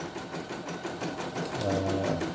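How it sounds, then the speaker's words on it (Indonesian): A low-cost embroidery machine starts up and runs steadily, its fast needle mechanism chattering in a rapid regular rhythm close by, with a low motor hum rising toward the end. "mesin langsung berjalan ya."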